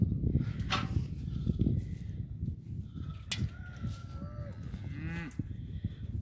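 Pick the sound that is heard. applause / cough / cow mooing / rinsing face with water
cow mooing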